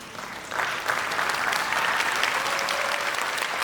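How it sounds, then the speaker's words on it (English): Full audience applause at an elementary school spring concert, swelling after a moment into a steady, dense wash of clapping from a large crowd. "one more applause because I want everybody to stand"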